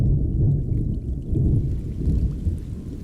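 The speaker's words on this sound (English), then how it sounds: "Autumn rains replenish the reservoir." Autumn rain at Sanmenxia Reservoir in central China, heard as a steady, dense low rumble of heavy rainfall with a distant thunder-like roll throughout.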